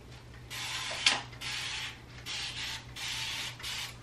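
A handheld spray bottle spritzing plain water onto type 4 natural hair, a series of about seven short hissing sprays in quick succession, fairly close and moderate in level, with no talk.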